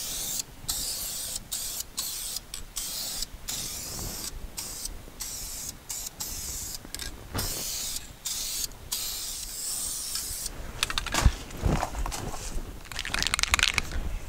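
An aerosol can sprays metallic silver paint onto a 1962 Chevy C-10 truck wheel in repeated short hissing bursts separated by pauses, close and fairly quiet, with a few clicks and knocks between passes.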